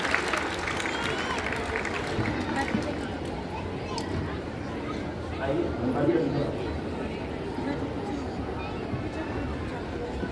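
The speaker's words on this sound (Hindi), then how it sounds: "जोरदार तालियों द्वारा अभिनंदन" Loud, sustained applause from a crowd welcoming an honoree at an Arya Samaj foundation-day ceremony in Delhi, dense clapping running steadily throughout with murmuring voices in the hall.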